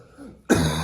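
A single short, harsh cough or throat clear bursts out close and loud after a quiet moment, then trails into breathy noise.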